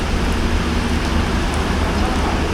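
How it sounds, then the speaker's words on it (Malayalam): Rain keeps falling during a Jan Shatabdi train journey out of Ernakulam Junction in Kerala, heard as a dense, steady hiss that holds even throughout, with no talking. "മഴ തുടർന്നുകൊണ്ടിരിക്കുകയാണ്."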